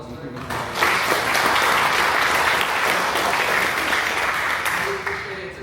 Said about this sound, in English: So let's give a round of applause for everyone.